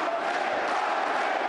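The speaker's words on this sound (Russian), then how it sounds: "Болельщики сразу же включаются" A crowd at a Superkombat kickboxing world title fight in Bucharest roars in a steady, dense wash of cheering, heard from a distance and never breaking into distinct voices.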